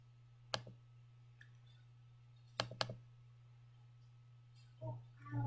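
Sharp mouse clicks on a computer, a single click then a quick double click a couple of seconds later, clear against a steady low hum.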